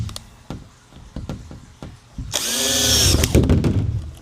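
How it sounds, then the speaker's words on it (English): A cordless power drill bores holes through the thin metal roof at each corner, beginning with a few sharp knocks and taps, then a loud, close, high whining drill run of about a second followed by rougher grinding. "Now I'm gonna drill in the 4 corners."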